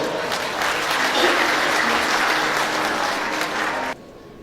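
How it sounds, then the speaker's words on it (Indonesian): Audience applause at a motivational seminar on winning competitions, a dense, steady burst of clapping from a full room lasting about four seconds before cutting off abruptly. "Tepuk tangan dulu."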